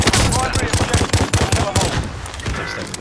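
Rapid automatic gunfire in Call of Duty: Modern Warfare, loud and close, with bursts of shots in a fast pulsing rhythm that thins out toward the end.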